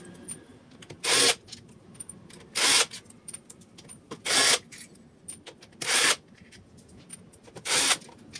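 Five loud, evenly spaced bursts from an impact wrench spin out the CVT cover screws on a Motorstar Easyride 150 FI motorcycle, each burst about half a second long, separated by quieter workshop background.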